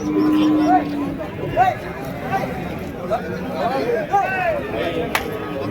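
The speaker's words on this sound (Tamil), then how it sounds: "நாட்டு பசுமாடுங்க" Native cows low at a busy Orappam cattle market, short rising moos breaking out several times over a steady murmur of crowd chatter and nearby voices.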